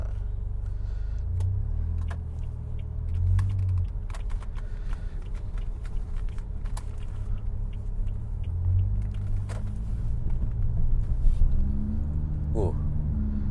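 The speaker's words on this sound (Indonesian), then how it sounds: "Ini kita nyobain tenaganya bener-bener langsung responsif banget, tarikan bawahnya." A supercharged Toyota Voxy with a JDM bodykit and air suspension pulls away on the road, its low engine and exhaust rumble steady and building slightly, heard from inside the cabin with small clicks and rattles throughout.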